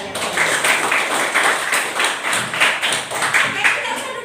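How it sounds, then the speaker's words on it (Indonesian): Schoolchildren in an elementary school classroom clap for themselves, a rhythmic, fairly loud patter of many hands with regular pulses throughout. "sekarang tepuk tangan untuk diri kalian"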